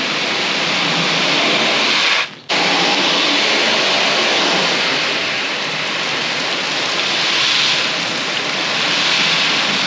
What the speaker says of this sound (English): I'm going to grab water hose.